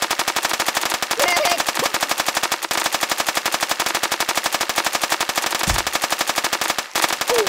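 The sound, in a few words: machine gun fire in Kick The Buddy video game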